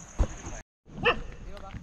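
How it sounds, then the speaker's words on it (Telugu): Dogs bark in short yips and barks near a dwelling in a tribal forest village in Araku. The barking sounds nearby and breaks off briefly amid outdoor background noise. "వీళ్ళు ఇక్కడ ఉన్నట్టున్నారు, అందుకని కుక్కలు అరుస్తున్నాయి అన్నమాట."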